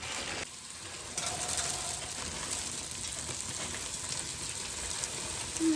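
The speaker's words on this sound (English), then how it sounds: "this is the part where it's gonna really start sizzling because the veg was frozen" Steady, crackling sizzle of frozen vegetables frying in a pot, a dense broadband hiss that jumps louder after a second and continues evenly throughout.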